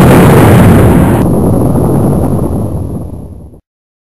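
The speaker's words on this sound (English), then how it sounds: "have fired another nuclear missile at your location." A nuclear missile explosion sound effect: a loud, roaring blast with a dense low rumble that holds for a few seconds, then thins out and cuts off abruptly.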